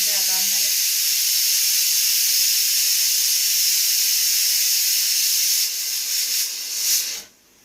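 A pressure cooker on a home kitchen stove lets off a loud, steady hiss of steam that runs unbroken for several seconds, then sputters, fades and cuts off abruptly at the end.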